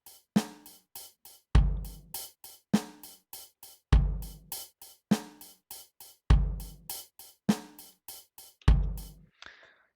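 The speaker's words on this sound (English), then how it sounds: "And we get a drum pattern which sounds something like this." Programmed electronic drum pattern built in FL Studio, with strong kick hits and hi-hat or snare notes between them, the offbeat notes noticeably quieter, repeating steadily in a tight loop with no talking.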